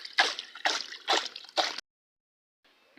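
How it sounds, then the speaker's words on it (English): Water splashes in a bucket as a homemade gold sluice mat is washed, making four short rhythmic sloshing bursts before the sound goes silent, then a faint trickle returns at the end. "In the bucket, give him a splash."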